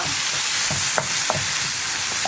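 Chopped banana flower for an egg thoran stir-fry is stirred in a hot pan, a loud steady sizzle with a few soft spatula scrapes over it.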